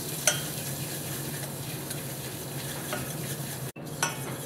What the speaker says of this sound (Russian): Пока котлеты жарятся